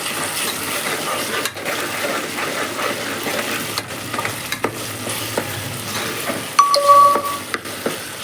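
Ginger-garlic paste fries and gets stirred in a pan for khichdi. A continuous close sizzle runs under repeated scraping strokes, and a short ringing chime sounds near the end.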